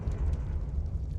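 Confringo fire spell in Hogwarts Legacy, a deep rumbling blast with a heavy low boom that sustains briefly, loud and close.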